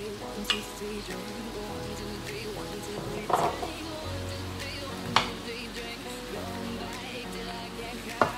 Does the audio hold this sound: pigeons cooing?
no